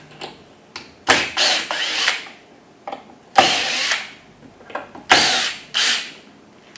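Power drill backing screws out of a basic toolbox, heard as several separate whirring bursts of varying length with short pauses between them, close and fairly loud, with no talking.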